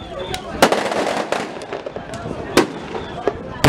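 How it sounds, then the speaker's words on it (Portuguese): Rubber bullet shots crack out sharply several times at irregular intervals during a street confrontation with riot shields, loud against a noisy crowd background with people talking. "Tiro de borracha."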